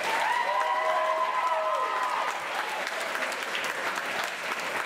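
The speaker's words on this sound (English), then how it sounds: "just give him a round of applause." Loud audience applause and some cheering at a Rockappella a cappella show, dense and sustained clapping filling the room, with a brief voice or whistle-like tone over it early on.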